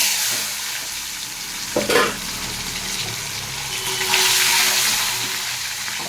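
Eggs coated in salt and turmeric fry lightly in hot oil, a steady close sizzle with a brief burst of spatter and stirring midway and a louder hiss toward the end.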